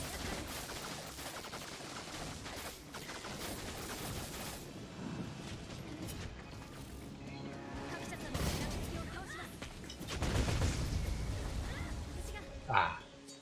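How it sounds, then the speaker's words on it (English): Explosion in the game Dragon's Dogma: Dark Arisen, heard inside dense, continuous battle noise with rapid bursts, swelling louder near the end and peaking in a sharp, heavy bang. "Death by second-hand explosion."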